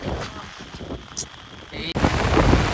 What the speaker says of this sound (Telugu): ఇక ఫుల్ వర్షం పడుతుంది ఈరోజు. హెవీ వర్షం పడుతుంది.